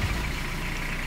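A 1988 Toyota diesel pickup with a swapped engine and a manual glow plug button, running with a steady low rumble close by and no voices over it.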